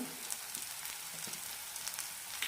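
Ginger garlic paste and masala powders with turmeric and coriander roasting in a pan for radish curry: a soft, continuous sizzle with faint scraping stir sounds, quiet and close.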